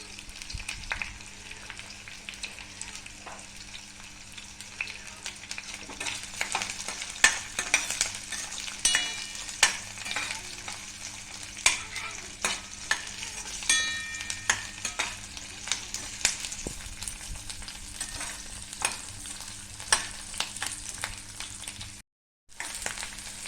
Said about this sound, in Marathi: कांदा सगळं आता भाजून घ्या व्यवस्थित